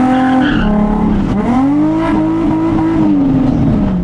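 A loud Nissan 350Z sports car engine revs close by under hard acceleration, its throaty exhaust note climbing in pitch, dipping briefly, then rising again and holding steady.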